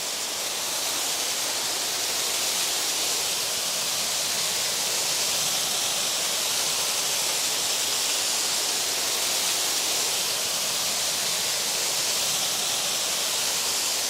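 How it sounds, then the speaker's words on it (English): Water pours powerfully down an ornate garden water feature, making a dense, unbroken rush that stays loud and steady for the whole stretch with no other sounds. "it is extraordinary to feel the power of the water falling"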